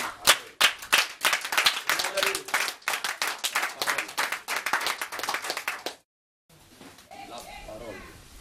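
A church congregation claps in rhythmic, fairly close applause for several seconds, which then cuts to a quiet stretch with a faint voice.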